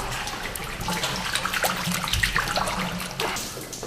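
Hand-worked provola cheese being placed into water before going into brine, giving steady splashing and trickling water close by with no talk.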